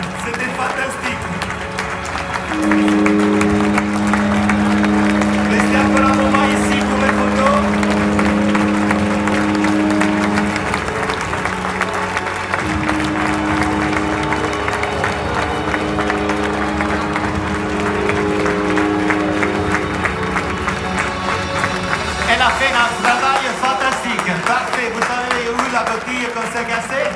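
Audience applause at a cruise ship ceremony, sustained clapping from a large crowd for the whole stretch with a steady tone and music running underneath.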